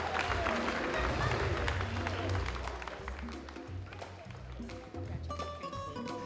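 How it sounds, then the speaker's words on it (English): A crowd at the AABLA West Africa 2012 awards gives a round of applause for an award winner, clapping loud at first, then thinning and fading under music and a low hum of voices. "Round of applause for the winner."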